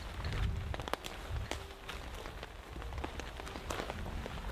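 Rain patters and drips steadily in a soaking-wet forest, with scattered sharper droplet hits over a continuous wash of falling water and no talking.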